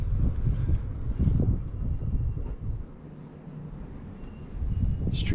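Gusty wind during a New Jersey snow blizzard, a broad low roar that surges and eases in waves over several seconds, loudest at the start and end with a calmer stretch in the middle, no voices.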